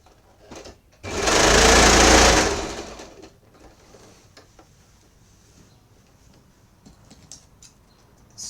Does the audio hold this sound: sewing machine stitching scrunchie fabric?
yes